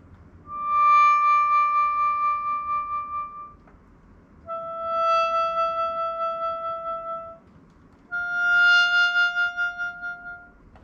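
A sheng, the Chinese free-reed mouth organ, plays three sustained chord tones one after another, each held a few seconds with a gentle pulsing vibrato that swells and dips in volume from changing breath pressure. Close and clear, with no talking.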